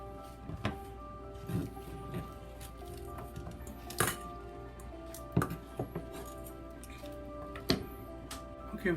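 Knife chopping through bok choy on a cutting board, a handful of sharp, separate knocks at irregular intervals over a steady kitchen hum, nearby and fairly clear, no talking.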